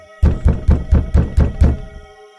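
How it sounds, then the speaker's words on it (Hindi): Knocking on a wooden door: seven firm, evenly spaced thuds, loud and close, with no talking. "तभी फिर से दरवाजे पर दस्तक होती है।"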